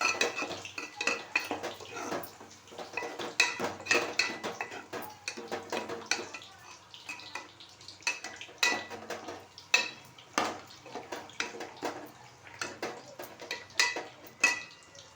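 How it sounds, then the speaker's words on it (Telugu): Paneer pieces fry in a pan for a paneer curry, stirred with a utensil that scrapes and clinks against the metal in a steady, busy rhythm over a soft sizzle, close and continuous. "ఈ పన్నీర్ ముక్కలను ఇలా వెంటలో వేయించుకోవాలి"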